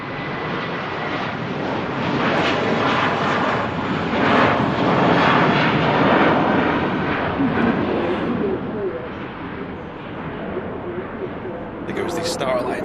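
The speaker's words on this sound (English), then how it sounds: "There goes the Star Alliance Special A321 Classic Turkish Airlines flight." A Turkish Airlines Star Alliance livery Airbus A321 passing at Manchester Airport, a loud, steady jet engine roar that swells and then fades, with a voice talking over it.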